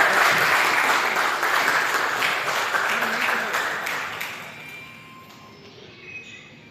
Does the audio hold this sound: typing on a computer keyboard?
no